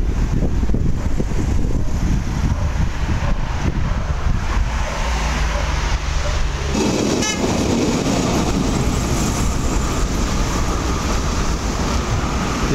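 An electric train at a station in Rome, a loud rumbling pass with steady low roar and wind buffeting, shifting partway through into a higher screeching, clattering tone with brief tonal whines, no speech.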